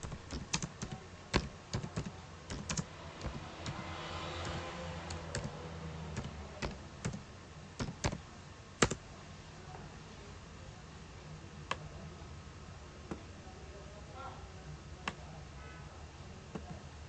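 Someone types on a computer keyboard in a quiet room, producing irregular bursts of close, crisp key clicks with brief pauses between runs of keystrokes.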